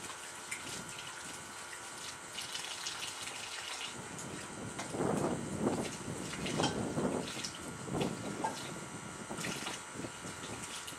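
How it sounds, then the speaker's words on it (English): Cold water is poured onto a hot camping wood stove, starting as a faint hiss and breaking into louder gushing, sizzling bursts midway that then settle, with no talking. "Add cold water."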